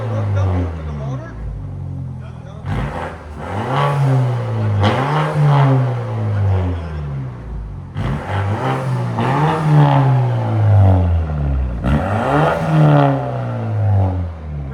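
A 2015 BMW 328i with a 2.0L turbo engine and straight-pipe exhaust revs hard in repeated loud, rising and falling bursts, close by, with brief pauses between pulls.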